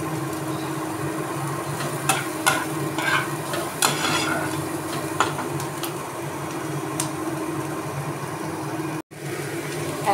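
Onions and sliced capsicum fry over a low gas flame in a pan for pizza topping, a steady soft sizzle with occasional scraping stirs and light knocks, close and continuous.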